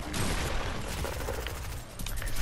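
Gunfire in the video game Fortnite, a quick flurry of sharp overlapping shots crackling over a couple of seconds, fairly close and loud.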